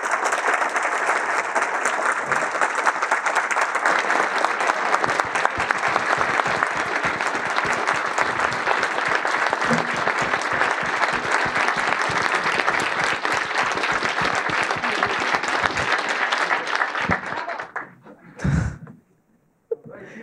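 An audience gives sustained, dense applause after a talk, steady and loud for most of its length before tapering off into scattered claps and a few thumps.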